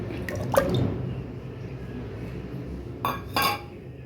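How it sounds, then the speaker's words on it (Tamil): Close clinks and a short liquid plop as two eggs are poured into a bowl for cake batter, followed by quiet background and a couple more soft knocks of glass or cutlery. "2 முட்டை ஊற்றிக்கிறோம்."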